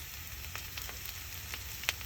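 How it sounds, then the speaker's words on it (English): Impossible Burger plant-based patty frying in a pan, a soft continuous sizzle with a few sharp crackles and pops, no talking. "It looks just like ground beef. Sizzling like ground beef."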